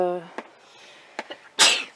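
A sharp, loud sneeze bursts out near the end, following a voice and a few small clicks and breaths.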